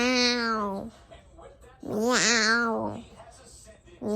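A voice imitates a cat meowing, two long, clear, close meows separated by a short pause, with the start of a third cut off at the end.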